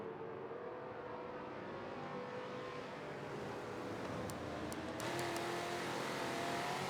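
Historic Trans Am race cars circulating at Lime Rock Park, a steady distant roar of several engines droning together, swelling slightly toward the end.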